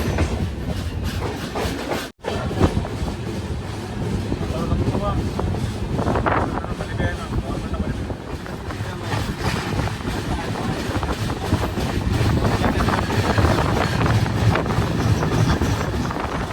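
A Mandovi Express passenger train on the Konkan Railway rumbles along the tracks with continuous clattering and wind buffeting, loud and close throughout.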